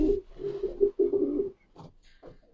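A racing pigeon coos in a loft, a few low throaty rolling phrases close by, then two shorter soft coos after a pause, with no voices.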